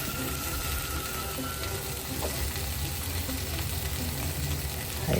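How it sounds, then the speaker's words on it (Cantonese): Pork ribs with BBQ seasoning pan-fry in a hot pan, giving a steady, moderately quiet sizzle with faint crackles and no talking. "煎好一面，然之後再煎另外一面"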